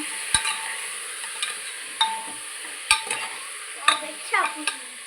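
Oil sizzles steadily in a pan while a utensil stirs, giving a few sharp scraping clicks and knocks at irregular intervals over the constant hiss.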